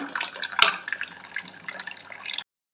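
A mango curry made like a fish curry but without fish simmers in a pot, giving short, close, wet bubbling and dripping pops for a couple of seconds before stopping abruptly.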